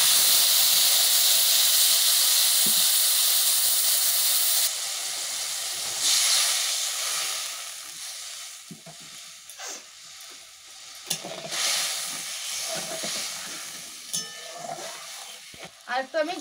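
A ground coriander and cumin spice mix hits a hot wok and fries with a loud, steady hiss for several seconds, then settles into quieter sizzling broken by scraping stirs and clinks.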